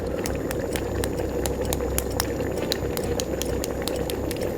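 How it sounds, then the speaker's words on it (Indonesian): Soy sauce stew of tenderloin with added water boiling in a pan, a dense, steady bubbling with fine crackling pops throughout, close up and without talk. "Nah, ini udah mulai mendidih."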